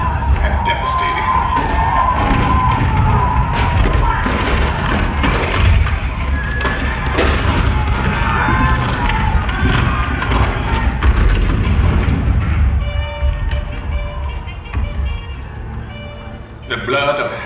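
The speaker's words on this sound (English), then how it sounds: "The cannon spoke for war, bitter, violent, and devastating." Cannon fire at Fort Sumter in April 1861, opening the Civil War, rendered as repeated booming blasts and thuds under a narrator's voice and swelling orchestral music, with the bombardment fading out toward the end.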